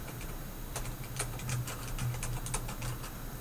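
Fingers tap on a computer keyboard in a quick irregular run of light clicks, close and quiet, over a faint steady hum.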